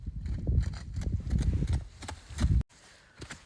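A stallion's hooves clip-clop past at a walk. The thuds are close and rhythmic for a couple of seconds, then cut off and return faint and sparse.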